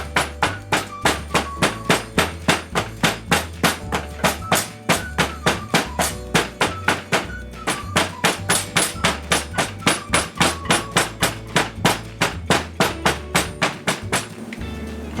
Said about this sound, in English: we're going to tenderize those with a hand tenderizer, not some kind of chemical tenderizer